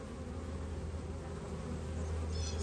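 Honeybees buzzing around a backyard hive as they bring in pollen, a steady, dense hum with individual bees passing close, continuous and fairly faint with no voices.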